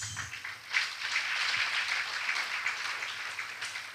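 An audience at an Edo State College of Nursing Sciences ceremony applauds, a steady wash of many hands clapping at moderate loudness that swells briefly and continues for several seconds without talk.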